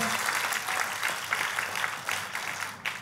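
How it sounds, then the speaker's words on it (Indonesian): Church congregation applause during a sermon, a steady patter of many hands clapping in a hall, moderately loud with small surges, and no talk over it. "Kasih tepuk tangan yang paling meriah buat Tuhan kita."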